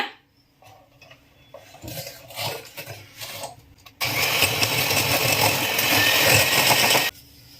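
An electric hand mixer beats butter and sugar for a plum cake, starting after some quieter kitchen clatter and then whirring loudly and continuously for about three seconds before stopping.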